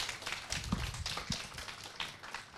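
An audience claps together in a hall, making a steady patter of many hands at moderate loudness. It keeps going through the whole moment without letting up.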